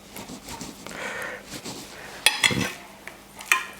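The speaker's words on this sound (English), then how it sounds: "I'm going to prick the steak so as our marinade will soak right into it" A fork pricks a bourbon-marinated cowboy steak, giving a few sharp metallic clinks and taps against the plate in bursts near the end, close and fairly clear, with soft handling noise in between.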